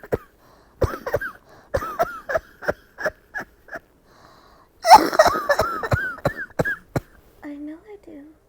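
A cough between two sick people comes as a run of short, rhythmic hacking bursts, then a harsher wheezy cluster mid-way, with whispery breaths and a strained voice near the end.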